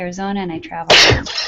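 A single sharp sneeze bursts out right after a voice speaks, loud and close on a call.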